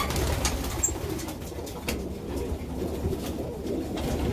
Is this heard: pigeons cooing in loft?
yes